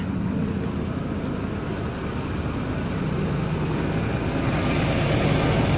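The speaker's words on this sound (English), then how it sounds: "it's already idling much smoother" A Ford Explorer engine idles steadily after starting, a smooth continuous low rumble that holds at an even level throughout, with no talk over it.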